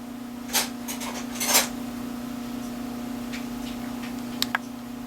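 Lids on jars of calamondin marmalade pop as they seal: a few sharp metallic clicks and snaps, some in quick pairs, spaced apart over a low steady hum.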